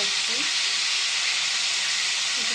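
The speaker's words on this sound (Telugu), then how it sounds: "దీంట్లో ఆయిల్ వేడైంది కదండి దీంట్లో మనం పేస్ట్ చేసుకున్న ఉల్లిపాయ పేస్ట్ దీంట్లో" Onion paste sputters in hot oil in a pan while a masala curry is being made, giving a loud, steady, close hiss throughout.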